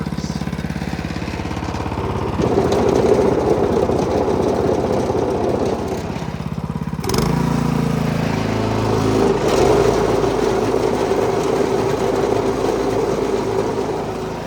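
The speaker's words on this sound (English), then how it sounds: "but I will show you how the auger works" A Toro Power Max 10/28 OHXE heavy-duty snowblower engine runs loud and close with the auger turning, a steady mechanical roar that shifts tone partway through as the load changes, with no talking.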